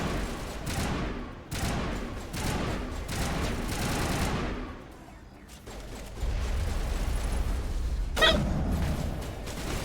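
Shotgun blasts ring out in the video game Mass Effect, several heavy booming shots spaced a second or two apart, with clattering weapon noise and a lull before a final sharp report.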